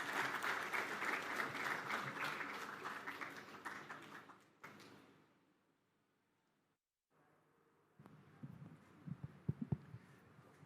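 An audience at a mutual fund event at an engineering college in Bengaluru applauds loudly for about five seconds before it fades to near silence, after which people talk with some handling knocks.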